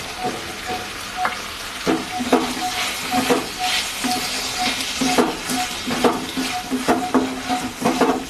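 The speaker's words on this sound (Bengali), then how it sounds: "এবার মশলার সাথে সুন্দর করে টমেটোটা, এই গোবিন্দভোগের চালটা ভেজে নিতে হবে।" Gobindobhog rice with tomato and spices sizzles in a pan while a spoon stirs it, scraping and clinking in an irregular rhythm of close, fairly loud strokes over a steady frying hiss.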